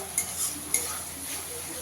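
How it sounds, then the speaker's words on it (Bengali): Spice paste fries in a pan under a steady sizzle, with two sharp scraping clicks of a spoon stirring against the pan and softer scrapes between, close and without voices. "মশলাটা একটু ভালো করে কষিয়ে নিতে হবে"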